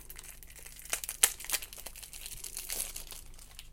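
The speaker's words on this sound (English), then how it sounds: "let me get my blade to open this MT washi tape" A blade cuts open the packaging on a roll of MT washi tape, with close crinkling and tearing of plastic in a few quick rustling bursts.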